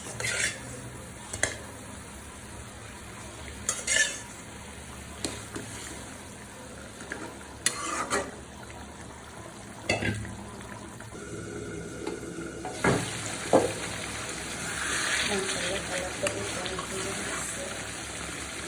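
Fish pieces sizzle and fry in a pan for a mustard-paste fish curry, a steady crackle broken by intermittent stirring and clinks of a utensil against the pan, with a louder surge of sizzling toward the end.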